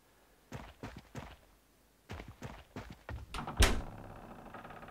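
Door opening in the horror game Asylum184: a series of wooden knocks and creaks in small bursts, then a louder thud with a lingering rumble, heard alone without talk.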